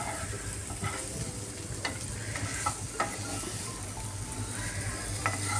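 Paneer sizzles steadily in a frying pan, with occasional light scrapes and clinks of a spatula stirring it, close and unaccompanied by talk.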